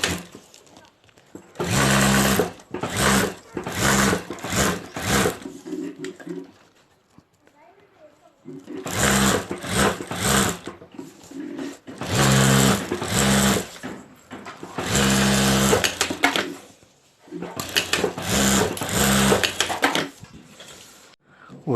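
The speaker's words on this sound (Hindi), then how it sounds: "और यहाँ हम सिलाई कर देंगे।" Sewing machine stitching embroidered fabric onto a handbag panel, loud rapid mechanical chattering in several bursts of a few seconds each separated by brief pauses, with someone talking between runs.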